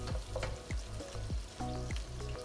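Bay leaves, cardamom and cinnamon frying in hot oil with softened onion, a steady sizzle punctuated by several clinks of a spoon against the pan at a regular pace, close and clear with no speech.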